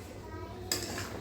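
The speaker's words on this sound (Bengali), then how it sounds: "এবারে আমি এটাকে নাড়া দিয়ে নেব।" A utensil stirs paneer butter masala gravy in a pan, with one sharp metallic clink and scrape against the pan over a quiet kitchen background.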